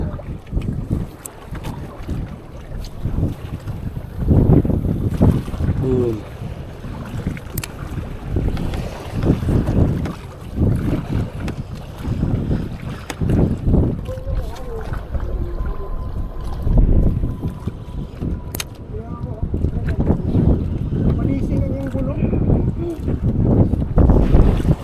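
Heavy sea waves slap and surge against a fishing boat hull amid strong wind buffeting the microphone, loud and continuous, with faint voices now and then, off Tagum, Davao del Norte.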